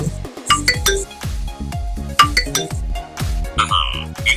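Phone ringtone set off by an AGPTEK LW11 smartwatch's Find Phone feature, a bright repeating melodic chime of plucked, bell-like notes playing close and loud, alone without talk.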